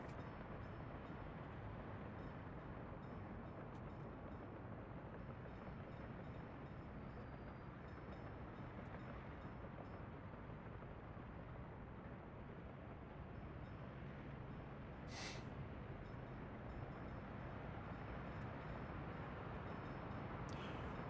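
A train runs in the Workers & Resources: Soviet Republic video game as a continuous, fairly quiet rumble that stays steady throughout, with one brief higher click partway through.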